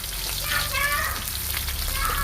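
Garlic and lotus stems stir-fry in a hot pan for Lao fried noodles, giving a steady, close, loud sizzle with scraping stirs throughout.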